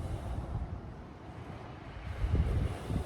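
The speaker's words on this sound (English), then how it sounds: "it's windy tonight again" Wind buffets a microphone on a dark shoreline at night while fishing, a steady low rumbling roar with gusts swelling louder toward the end, no voices.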